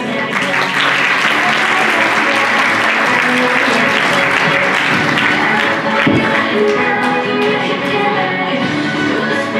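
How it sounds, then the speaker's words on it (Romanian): Sustained audience applause at a Romanian brand awards event, a dense steady roar of many hands clapping at full loudness throughout, with faint crowd murmur mixed in. "Te rog, aplauze!"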